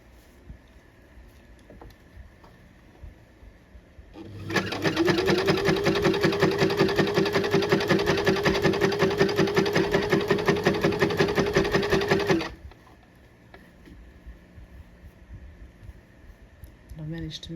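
A sewing machine runs steadily for about eight seconds, stitching elastic onto a skirt made from a dress, with a fast even whirr that starts and stops cleanly against a quiet room.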